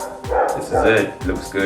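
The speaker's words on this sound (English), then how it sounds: "Sorry, that was my dog." A pet dog barks in a home several times in quick succession, close and loud, while a person talks over it.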